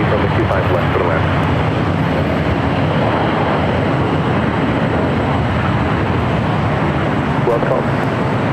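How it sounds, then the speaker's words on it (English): An American 777-200ER jet airliner touching down on runway 25 left at LAX, a loud broad continuous roar of engines and rushing air held throughout, with voices faintly present. "Just at this American 777-200ER, touchdown at 25 left."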